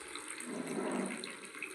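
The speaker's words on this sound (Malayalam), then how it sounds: "അങ്ങനെ നമ്മളെ ചുക്കാപ്പി നമുക്ക് ഒരു കപ്പിലേക്ക് ഇങ്ങോട്ട് ഒഴിക്കാം" Hot dry ginger coffee is poured into a cup in one brief, steady splashing stream.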